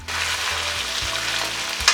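Sauce for vegan sukiyaki boiling down in a pan, a loud, continuous bubbling sizzle with no voices over it and a brief knock at the very end.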